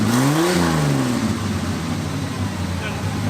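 A Buick Grand National barn find's turbo engine revs, its pitch rising then falling in one blip before settling into a rough idle, loud and close, with a faint turbo whir.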